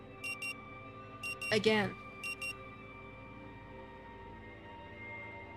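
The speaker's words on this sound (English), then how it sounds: "The frenetic sound of the alarm nudges you back to the present." An electronic alarm clock in a time-loop video game demo sounds three short bursts of rapid beeping. The beeps are fairly faint over a low ambient hum, and a voice briefly speaks between them.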